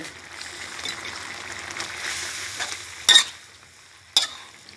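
Ten sprigs of holy basil stirred into a simmering wild boar red curry with fresh milk and eggplant, a soft bubbling hiss broken by two sharp clinks of a utensil.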